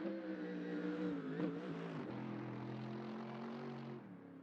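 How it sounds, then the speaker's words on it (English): A Bentley GT3 race car engine in a sim racing game during a Super GT round at Sugo, a steady droning tone with a pitch shift partway through, then settling lower and fading slightly at the end. "Geez, that Bentley sounds great."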